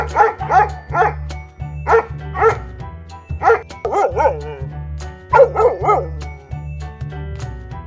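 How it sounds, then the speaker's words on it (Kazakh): A dog barks in quick pairs and triplets, repeated several times, over a steady soft music bed. The barks are a domestic animal sound in a children's puzzle game. "Бұл it. It af af af deydi."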